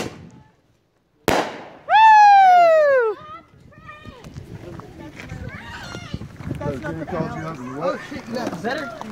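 New Year's party fireworks: a sharp bang opens a loud rising whistle, followed by crackling, popping bursts from firework cakes and a fountain, with people talking and shouting throughout.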